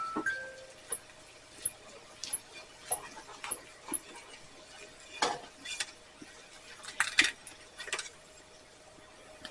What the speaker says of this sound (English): we're going to dish some of this up here